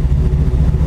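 A Ford Mustang SN95 engine on a tuning setup holds a steady, loud low rumble with throbbing firing pulses, close up and without voices.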